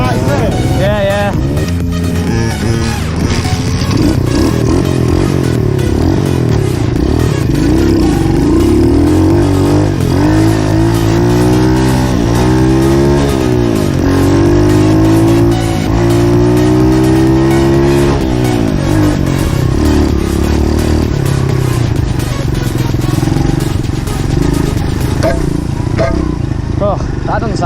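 A 50cc two-stroke pit bike engine revving hard and loud up close, its pitch climbing and falling in repeated surges, while people talk over it.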